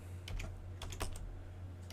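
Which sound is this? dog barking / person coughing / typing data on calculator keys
typing data on calculator keys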